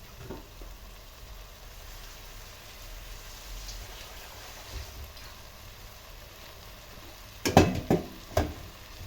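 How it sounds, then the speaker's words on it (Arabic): Vermicelli and rice stirred and fried together in a pot: a steady soft sizzle runs throughout, broken near the end by a few brief scraping, clattering strokes of a utensil against the pot. "اشوحه كله في قلب بعضه كده دقيقتين كده مع بعضه"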